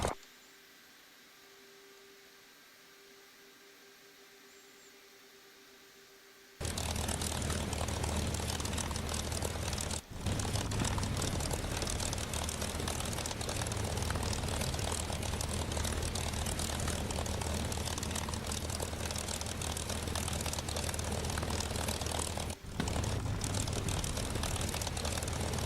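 P-51 Mustang propeller engine in the DCS flight simulator, quiet at first, then a loud, steady, broadband drone that holds with brief dips for the rest of the clip.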